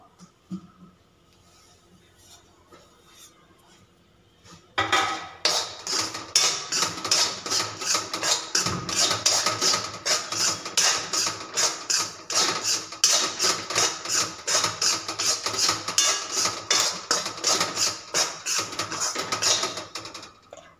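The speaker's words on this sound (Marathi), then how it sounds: "तर एकदम व्यवस्थित भाजून घ्यायचा रवा।" Semolina for shira, a suji halwa, being roasted and stirred in a pan: after a few quiet seconds, loud, steady scraping with a fast, regular stirring rhythm starts and runs close and continuous to the end.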